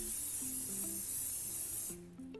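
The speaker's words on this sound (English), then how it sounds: "we have our pan right here, and then just spray it, obviously, with little olive oil." Olive oil sprays from a can into a muffin pan over a sink, a hissing spray lasting about two seconds that stops abruptly, followed by faint tonal background sounds.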